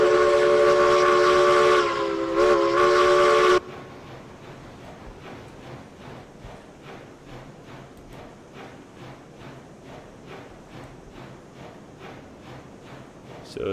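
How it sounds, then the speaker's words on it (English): In the video game RailRoads Online, a train whistle blows loudly for a few seconds, then a train hauling oil cars rolls on with a steady rhythmic clacking of wheels over rail joints. "Should probably slow this train down a little bit."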